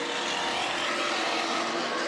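Race cars lapping Delaware Speedway, a steady, loud blended engine roar from the pack that holds without a break for the whole stretch, with no voices over it.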